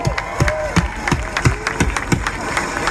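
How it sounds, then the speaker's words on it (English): Audience applauding at a Nasdaq IPO event in Times Square, a steady patter of claps with rhythmic beats running underneath throughout. "Let's give a big round of applause."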